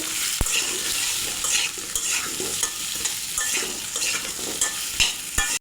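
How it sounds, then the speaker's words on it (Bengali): Potato pieces frying in mustard oil with salt and turmeric, a continuous close sizzle with a spatula scraping and clinking against the pan at irregular moments. "এবার আলুটাকে লাল লাল করে ভেজে নেব।"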